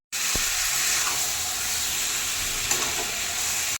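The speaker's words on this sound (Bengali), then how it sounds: "কিছুক্ষণ মাংসটা কষাবো।" Mutton and fried potatoes sauté in hot oil for a mutton curry, giving a steady, close, loud sizzle that runs without a break, with one sharp tap near the start.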